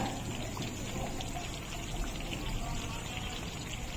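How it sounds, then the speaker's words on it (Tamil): Ghee pours in a little at a time into almond (badam) halwa cooking in a pan, making a steady soft liquid trickle and pour noise that stays continuous and close. "இந்த ஸ்டேஜில் இன்னும் கொஞ்சம் கொஞ்சமாக நெய் சேர்த்துக்கோங்க"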